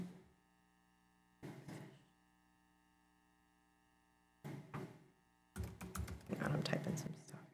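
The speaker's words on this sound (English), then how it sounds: "Hang on, I'm typing some stuff here." Someone types on a computer keyboard during a town working-group meeting: short bursts of key clicks, then a longer run of rapid keystrokes, all over a steady electrical hum.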